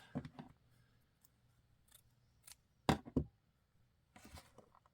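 Scissors snip through craft materials for an appliqué project in a few quick, crisp cuts spread over several seconds, close and faint against a quiet room.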